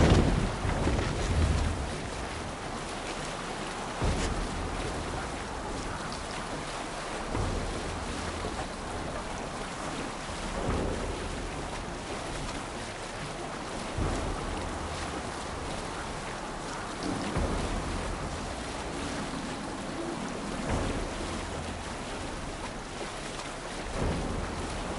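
Sailing ship at sea in Assassin's Creed Valhalla: steady rushing water and surf with rain-like hiss, swelling in slow regular waves of sound, continuous and fairly close, no talking.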